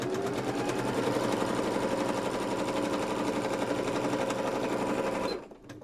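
A loud sewing machine stitches a zip into a hexagon puff bag, a fast continuous mechanical whir and rattle lasting several seconds before stopping abruptly.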